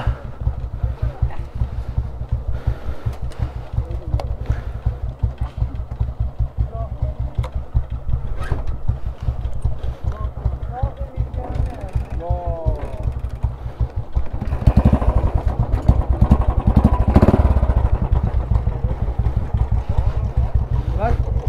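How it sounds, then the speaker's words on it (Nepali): A motorcycle engine starts and runs with a steady low rumble at close range, growing louder partway through, while people talk over it. "बाइक स्टार्ट गरौँ"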